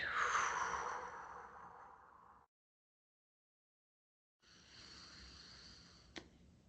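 A long, slow, close exhale after a deep breath in, airy and steady, fading over a couple of seconds, followed by silence, then another breathy stretch with a brief click near the end.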